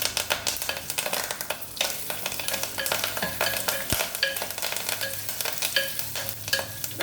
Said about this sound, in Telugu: ఇప్పుడు కరివేపాకు వేసేస్తున్నాం